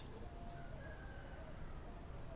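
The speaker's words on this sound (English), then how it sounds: "the birds are nice on my end" Faint outdoor birdsong with a few brief, thin chirps and a drawn-out whistle, distant and quiet over a steady wash of background noise; no one speaks.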